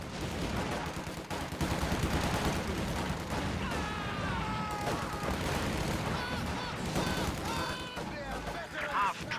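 Battle from Company of Heroes with flamethrowers engaging Grenadier squads: bursts of gunfire and crackling fire rattle through a dense, busy mix, with a voice talking over the action.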